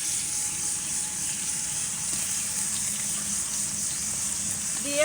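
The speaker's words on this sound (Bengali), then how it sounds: "এখন দিয়ে দেবো পেঁয়াজ কুচি" Chopped onions frying in a pan of oil after potatoes, a steady loud sizzle running unbroken throughout with no talking.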